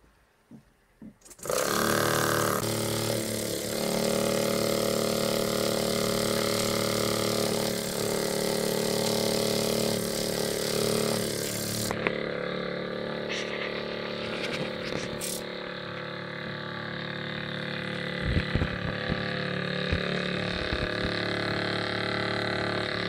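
A small model steam engine fuelled by ethanol gel starts up abruptly and runs with a loud, steady mechanical whir and hum, its tone shifting midway, with scattered clicks and knocks later on.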